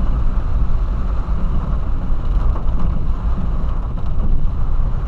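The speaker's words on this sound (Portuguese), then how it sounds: "O barulhinho da chuva, nossa, deixa a gente calmo, velho." Steady rain drums on a VW Polo sedan during a drive in a heavy storm, a dense continuous wash with low road rumble beneath, loud and close, with no talking.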